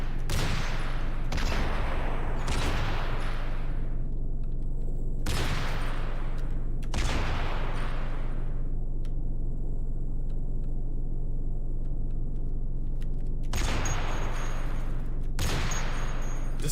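M2 Browning heavy machine gun in Cataclysm: Dark Days Ahead, firing in separate loud bursts, each trailing into a decaying echo, with gaps between them over a steady low hum.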